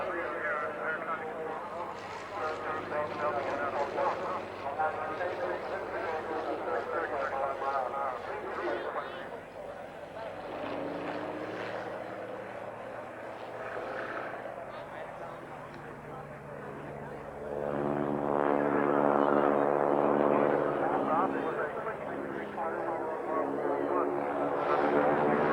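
A propeller plane of the Auster type at an airshow in Newtownards drones overhead, flying slowly and nearly hovering in a strong wind, its engine hum rising and falling under steady spoken commentary.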